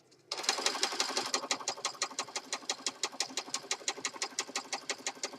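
A sewing machine stitching along the edge of a junk journal starts abruptly and runs in a steady rapid rhythm of clicking needle strokes, fairly quiet and close, with no voices.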